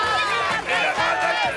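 A cartoon crowd cheering medal winners at a games ceremony: sustained, bright cheering and whooping from many voices, loud and continuous with a narrator talking over it.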